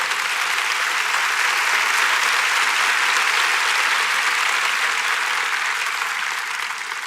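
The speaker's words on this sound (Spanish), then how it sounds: "Dale fuerte el aplauso." A congregation applauds at a church service, a broad, steady roar of many hands clapping that stays full for several seconds before easing slightly at the end.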